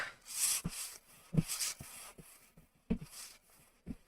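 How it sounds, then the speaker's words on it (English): Sandpaper rubs over a wooden garden tool handle in short separate strokes with pauses between them, close and fairly quiet, with no talk. "So I just want to put sandpaper over that."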